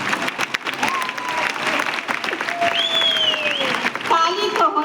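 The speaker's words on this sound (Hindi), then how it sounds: "तो हमारे दोनों लेफ्ट और राइट टीम के लिए एक बार शानदार ताली" An audience at a Rootpure award ceremony honoring its team leaders gives sustained applause, with a few sliding whistle-like tones rising above the clapping and a voice cutting in near the end.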